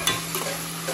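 Onions with salt stirred and cooking in a pan for a dried fish curry, with a brief, close scraping stir over a steady sizzle.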